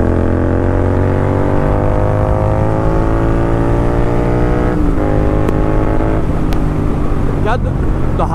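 A Royal Enfield GT 650 (2023) motorcycle exhaust roars steadily at high speed, loud and sustained with strong rising engine harmonics, wind rushing around it throughout.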